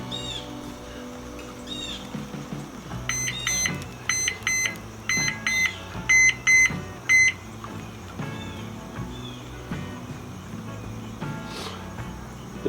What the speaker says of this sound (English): That meat's still cold, setting off my low temperature alarm.